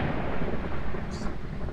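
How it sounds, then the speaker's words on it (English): A thunderstorm in the horror video game Phasmophobia rumbles as a continuous low roar of thunder and rain, loud and steady throughout, with no clear voices over it. "Can ghosts make the storm?"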